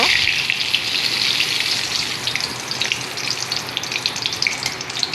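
Dried chillies and bay leaves hit hot oil for tempering, giving a steady, bright sizzle and crackle close by, continuous with small popping bursts and no talking.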